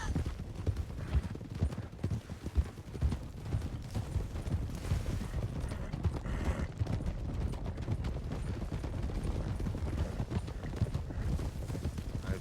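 A group of horses walks steadily on hard ground, their hooves clip-clopping in a dense overlapping rhythm, close and fairly loud throughout, with no voices over it.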